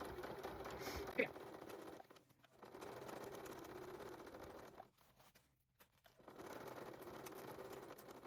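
A sewing machine top stitches along the top edge of fabric in steady, quiet runs of rapid mechanical whirring, stopping twice with short pauses between, and a voice speaks near the start.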